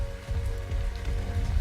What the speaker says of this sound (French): En plus il pleut.